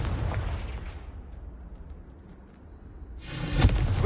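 A Confringo fire spell blast in the video game Hogwarts Legacy: a loud burst opens, fades into a low rumble, then a second heavy explosive boom hits near the end, with no talking.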